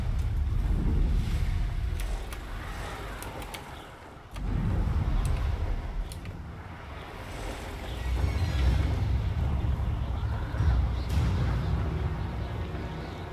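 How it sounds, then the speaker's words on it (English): Wind rushes past while flying over the Forbidden Forest in the video game Hogwarts Legacy, a broad, gusty low roar that surges, briefly drops away, then returns steady and close. "why is it so windy?"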